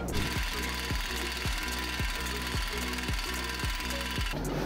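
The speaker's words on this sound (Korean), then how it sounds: "이게 임팩으로 이렇게 푸시면 간단해요" Impact wrench loosening suspension link bolts on a Mercedes-Benz W222 S500, a loud continuous buzz broken by rapid regular hammering bursts, close up and alone.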